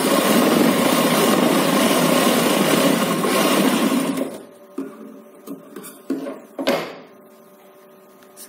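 A domestic sewing machine runs steadily, stitching a folded edge on a baby's umbrella frock, a continuous loud mechanical whir that stops after about four seconds and gives way to a few short, quieter bursts of motor and handling noise.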